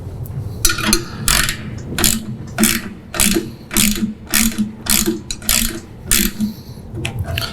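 A hand ratchet clicks in quick bursts while tightening the drawbar adjustment on a John Deere 42-inch lawn sweeper, each rapid run of pawl clicks repeating about a dozen times, close and loud.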